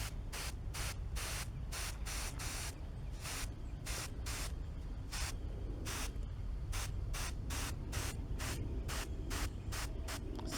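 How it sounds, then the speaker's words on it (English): A garden hose lightly misting the top of soil in herb pots, a steady close spray hiss in repeated short bursts of varying length. "So I lightly mist the top of the soil, very lightly."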